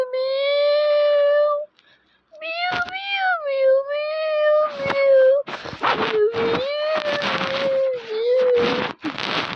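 A newborn litter and its white mother cat meowing loudly and close, with long rising and falling cries, several overlapping, alongside bursts of handling noise and a human voice.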